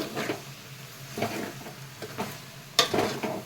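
Tomato, green chilli and onion cooking in a pan give off a low sizzle, broken by several soft stirring scrapes and one sharper clink of a utensil against the pan, with no voices.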